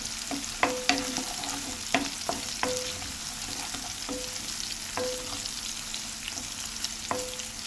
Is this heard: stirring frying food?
yes